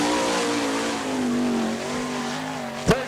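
The Schaff Motorsports sprint car wails around the oval at the All Star Circuit of Champions Winternationals in Gibsonton, Florida, its high-pitched engine holding a loud, steady drone, with a short sharp burst near the end.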